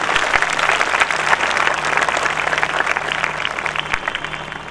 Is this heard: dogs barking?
no